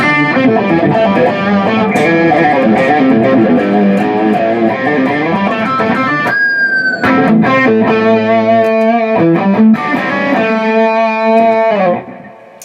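An electric guitar plays loud sustained notes through an octaver effect on a Boss Katana Artist MkII amp, adding a thick, doubled low tone, with no talking.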